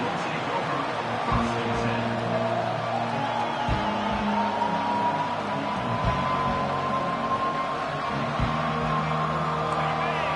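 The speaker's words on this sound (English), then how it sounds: "This crowd trying to show them what it's going to be like all day in this house." A stadium crowd in a Madden football video game roars and cheers as a steady, dense wash of noise, with a commentator talking over it throughout.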